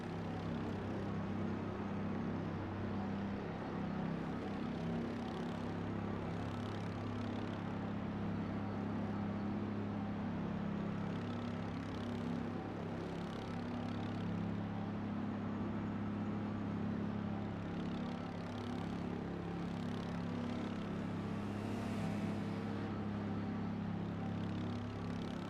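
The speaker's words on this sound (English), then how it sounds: "we'll give you just a little moment here just to appreciate the sounds and sights of this car" A V8 Supercar engine in a racing simulation game rumbles at low, steady revs onboard while trailing the safety car at Watkins Glen, a continuous deep drone with no gear changes or bursts of throttle.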